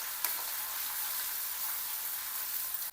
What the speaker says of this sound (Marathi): अद्रक लसूणचं पेस्ट परतून घ्यायचं